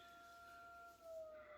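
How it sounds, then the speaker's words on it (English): A distant siren wailing in a steady, faint tone that dips slightly in pitch toward the end. "siren going off, I don't know what's happening."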